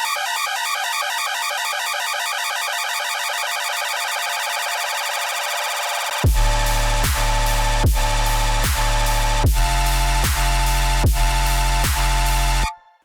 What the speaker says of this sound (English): I quickly just put in some drums, an extra sustain, and a sub, so very minimal.